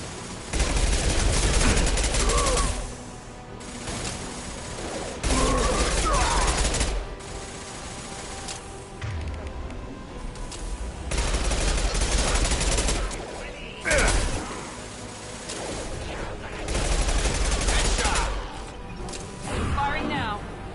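Gunfire from the Mass Effect video game comes in loud sustained bursts, roughly three heavy stretches separated by brief lulls, with a busy layered combat din throughout.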